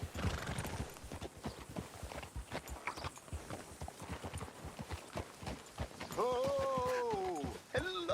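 Game audio from Red Dead Redemption 2: horse hooves clip-clopping in a steady rhythm, with talking over them, followed by a loud whinny near the end.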